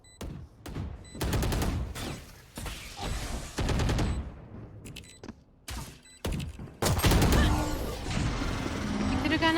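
Video game gunfire rings out in loud, repeated volleys and sharp single shots, some with booming tails, forming a dense, near, chaotic exchange.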